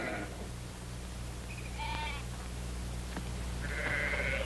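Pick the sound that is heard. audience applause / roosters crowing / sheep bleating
sheep bleating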